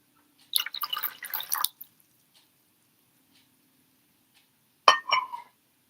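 Scooped water drips and trickles, a cluster of quick drips and splashes early on, then silence, then a second short bright pour-off of drops, close and clear with no talking.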